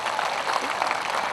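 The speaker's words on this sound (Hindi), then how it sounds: "एक बार इन्हें ताली बजाकर बताओ कि इनके कितने श्रोता हैं" An audience at a Hindi poetry gathering claps on request, a dense burst of applause throughout, with voices mixed into it.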